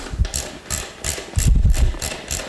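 A ratchet with a 5/8 socket tightening seat bolts, making rapid, repeated clicking strokes in a steady rhythm, close and fairly loud.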